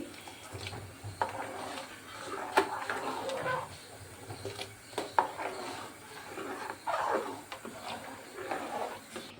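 A pot of jaggery payesh (rice pudding) with cardamom is stirred steadily, its spoon scraping and rubbing against the pot in repeated strokes while a voice talks over it.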